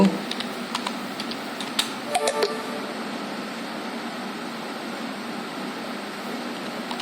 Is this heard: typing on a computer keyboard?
yes